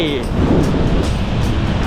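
Ocean surf on a beach in Rayong, Thailand, sends up a steady, loud roar, with wind buffeting the microphone throughout.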